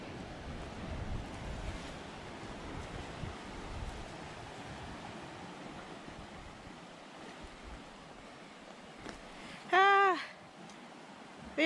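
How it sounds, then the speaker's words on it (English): Ocean waves wash continuously against Gokarna Rock Beach in a steady broadband rush, with wind buffeting the microphone, and a short burst of another sound near the end. "So this is Rock Beach,"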